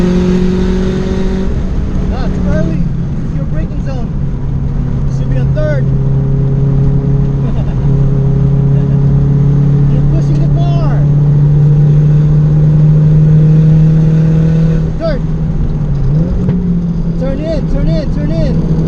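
Race car on a Thunderhill track day, its engine droning loudly and steadily with revving and shifts, heard from inside the car under a coach's spoken instructions.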